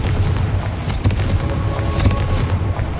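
Confringo fire spell blasts in Hogwarts Legacy, a dense run of loud booming explosions with crackling bursts, one after another, with no talk.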